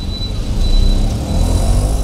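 Auto rickshaw engine running close by on a busy city street, a steady rumbling drone with traffic noise around it and no talk.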